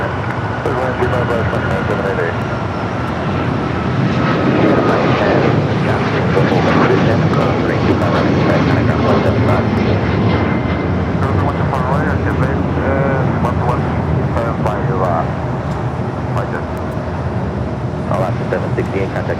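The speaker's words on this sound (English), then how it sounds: "That was Alaska flight heading to Honolulu" An Alaska Airlines jet roars loudly and continuously at Los Angeles International Airport, its engine noise swelling and fading, with radio voices and talk heard over it.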